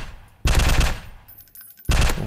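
Rapid submachine gun bursts in a Team Fortress 2 style first-person shooter, two loud dense volleys separated by a quieter gap with faint clinks, close and with no talking.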